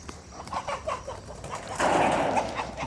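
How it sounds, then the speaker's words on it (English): Chickens and roosters calling beside a ripe Thai rice field ready for harvest, a run of short clucks and squawks followed by a louder, denser burst of crowing close by. "Roosters, those chickens,"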